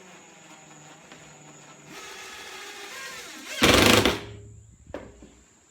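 Screws driven into timber frame blocks at the back corner of a frame, a sustained loud buzzing drill burst partway through, with lighter handling sounds before and after.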